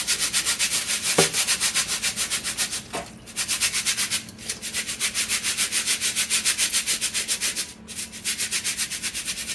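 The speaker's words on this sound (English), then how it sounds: "And you just keep shaking it." Rice rattles and swishes rhythmically in a strainer, a fast steady shaking with a few brief pauses, close up and loud with no talking.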